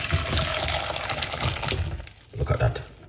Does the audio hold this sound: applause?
no